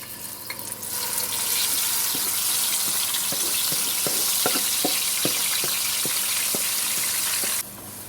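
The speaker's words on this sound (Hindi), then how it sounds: "अब हम इसी ऑयल में इस चिकन को डाल देंगे।" Marinated chicken dropped into hot oil in a pot, a loud steady sizzle and crackle with a few sharp pops and clinks of a spoon, continuous until it eases off near the end.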